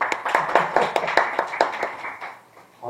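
Brief round of hand clapping from a small group in a classroom-style setting, a dozen or so distinct claps in an uneven rhythm that trail off toward the end, fairly close and moderately loud.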